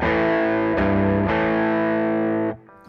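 Electric guitar through a switched-on distortion pedal, a loud, thick, sustained chord struck a few times with gritty buzz, then cut off abruptly near the end, with no voices.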